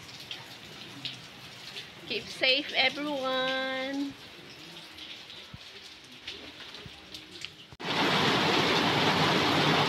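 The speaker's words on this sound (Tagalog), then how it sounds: "Malakas kasi yung ulan sa labas." Steady rain hisses throughout, growing suddenly much louder and heavier near the end; a person speaks briefly over it early on.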